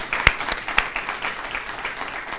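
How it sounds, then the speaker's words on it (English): A school speech competition audience applauds, a thin, scattered patter of clapping with a few sharper claps standing out, fairly close and without talk. "Let's give a round of applause to High School Connections."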